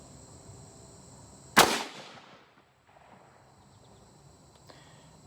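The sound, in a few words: first gunshot from a Howa 1500 Varminter .223 rifle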